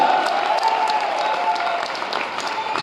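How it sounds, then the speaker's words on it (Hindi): Steady, loud audience applause fills a company celebration event, a dense wash of many hands clapping without pause before cutting off abruptly. "ताली बजाओ यार"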